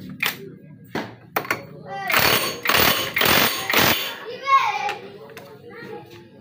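A 19 mm bolt on a scooter CVT is tightened in a few loud, harsh rattling bursts, each about a second long, close by, with voices talking before and after.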